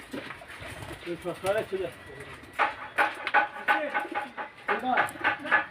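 Several pigeons coo in low, repeated rolling calls nearby, with bursts of flapping or rustling, while someone talks over them throughout.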